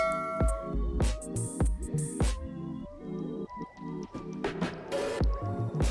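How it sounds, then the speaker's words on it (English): Thick ukwa (African breadfruit) porridge being stirred after salt is added, giving repeated wet squelching, dripping sounds in an uneven rhythm, close and moderately loud with no talking. "So this is me adding salt to it, and then I'll just stir it."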